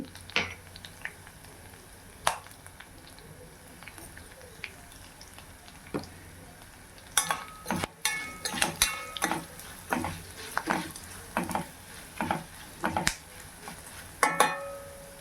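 Ginger sautéing in a pan for a Tamil ginger chutney, with faint low sizzling at first, then a run of close stirring scrapes and clicks of a spoon against the pan through the second half.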